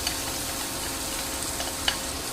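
Onions frying in oil in a pan give off a steady, even sizzle close by, with a couple of faint ticks from the pan and no voices.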